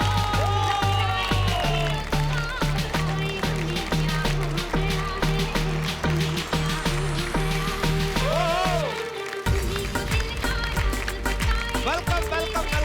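A studio audience on a comedy talk show applauds guests, a lyricist-singer and an actress, arriving on stage. Sustained crowd clapping mixes with a loud band and cheering, with voices nearby, and a brief drop near the end.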